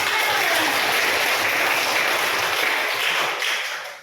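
Children and teachers applaud in a classroom during a church-style lesson, a busy, steady patter of clapping that fades off in the final half second.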